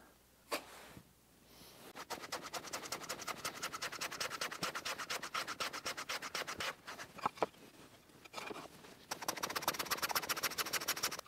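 A hand saw cuts wood for dovetail joints of a box, a steady run of rapid back-and-forth rasping strokes, close and fairly loud, pausing briefly near the start and again before a final stretch of strokes.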